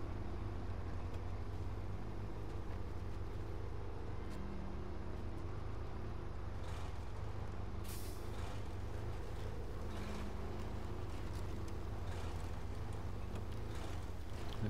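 A heavy truck engine drones steadily on a dirt road in SnowRunner, a constant low rumble throughout with occasional faint clunks, and no voice.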